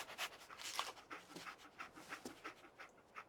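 The dog companion in Fallout 4 pants rapidly and close by, a run of quick breathy huffs in an uneven rhythm, fairly quiet, with no talk over it.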